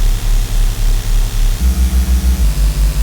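Default Respace synth patch in Ableton, playing a rhythmic run of buzzy low pulses that steps to a new pitch twice, loud and steady with no voices.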